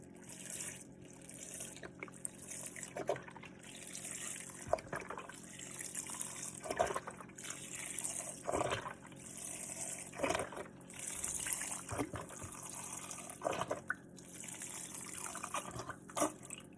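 Chicken broth from a carton pours into a slow cooker in a steady, close gushing stream that runs on for many seconds, broken by short surges and glugs, with no talking.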